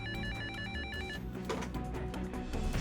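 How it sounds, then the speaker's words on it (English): An office telephone rings with a repeating electronic bell trill, several quick bursts playing steadily at moderate volume over a busy musical background. "and my phone rings."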